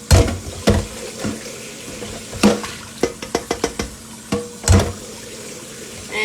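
Cold rinse water from washing dandelions splashes and sloshes as it is dumped out, with a few irregular splashes followed by a quick run of small drips and sloshes, close by.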